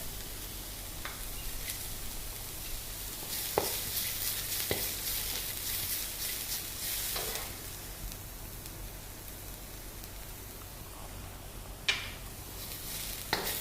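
Onions with green chilies and turmeric powder sauté in a pan for Machilipatnam uggani, a soft steady sizzle with scattered stirring clicks and scrapes and no talk.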